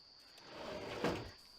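A drawer slides open in the horror adventure game Harvester, one soft, short scrape rising over quiet room tone.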